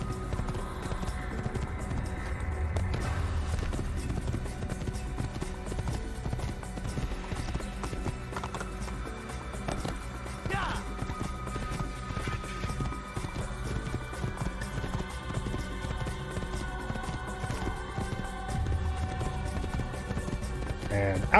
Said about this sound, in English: I might be getting a little better at controlling the horse.